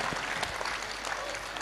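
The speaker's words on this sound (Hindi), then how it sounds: "जोरदार ताली बजा करके आप सब धन्यवाद दें।" An audience applauds loudly and steadily at a religious gathering, a dense wash of clapping that holds without a break for the whole moment.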